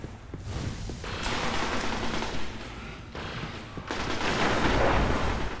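Fusion rifle fire in the Destiny video game, with dense, rumbling bursts of charged energy shots and booms rolling continuously over several seconds, loud and close.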